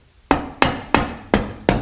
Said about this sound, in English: and then grab my little soft face hammer